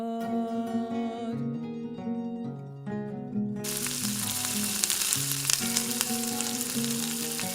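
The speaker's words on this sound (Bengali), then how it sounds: "মাছগুলোকে উল্টিয়ে পাল্টিয়ে দুপাশে ভালো করে লাল লাল করে ভেজে নেব।" Gentle music plays alone at first, then rohu fish pieces hit hot oil and a loud, close, crackling sizzle bursts in and carries on under the continuing music.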